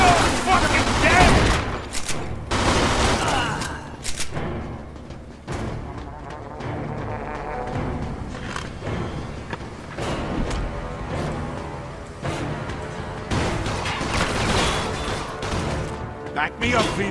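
Heavy gunfire in Mafia 2, dense bursts of automatic shots and sharp cracks stacked over one another, loud throughout with shouting voices breaking in between volleys.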